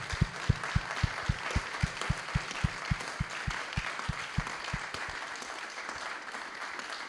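Audience at a human rights conference gives a round of applause, a few distinct near claps standing out in rhythm over softer scattered clapping from the room, fading slightly toward the end.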